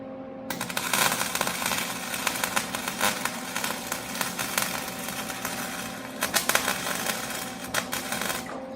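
A MIG welder lays a bead on a bolt with a steady crackling, sizzling buzz that runs continuously for several seconds at close range, with a brief pause and restart near the end.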